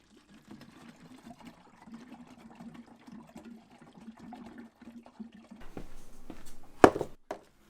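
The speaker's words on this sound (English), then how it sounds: "I emptied out the old bottles into a plastic container so they can be disposed of properly" Old film-processing chemicals poured from bottles into a plastic container, a soft steady trickle and splash that grows fuller toward the end, close and quiet, with a sharp clunk near the finish.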